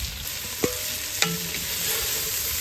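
Meat browning in a pan over an open outdoor fire gives a steady broadband sizzle, broken by two sharp utensil clinks near the start, with no talking.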